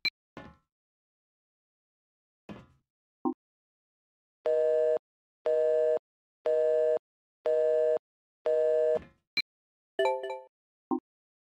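Telephone busy signal in Silent Hill: Shattered Memories, five evenly spaced buzzing beeps in a steady rhythm, framed by brief clicks and short electronic blips before and after, clear with no speech.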